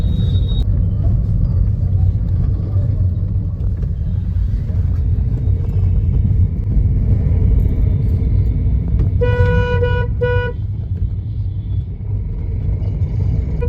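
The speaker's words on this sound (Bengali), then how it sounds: "আর এখন ঢুকে পড়লাম বোলপুর বাস স্ট্যান্ড। এই হচ্ছে বাস স্ট্যান্ড।" Loud rumbling traffic at Bolpur bus stand in West Bengal, India, engines idling and passing, with a burst of honking horns partway through.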